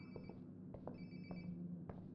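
A phone rings close by in Life is Strange: Before the Storm, its repeating electronic tones sounding in short bursts over a low steady background hum, with no talking.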